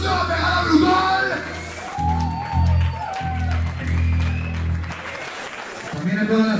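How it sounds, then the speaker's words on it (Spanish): Audience applause at the Brutal Metal Fest metal festival: a crowd claps and cheers steadily throughout, with a voice shouting over it through a loud, reverberant hall sound system. "¡Un aplauso a Pegada Brutal!"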